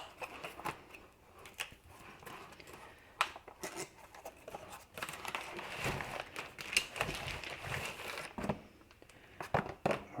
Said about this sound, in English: So I'm going to cut this open real quick.